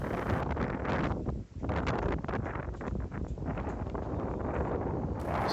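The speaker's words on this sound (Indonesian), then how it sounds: "ini angin bertiup lumayan cukup kencang" Strong wind at Atok beach buffets the microphone in a continuous, loud roar with gusty surges and one brief lull.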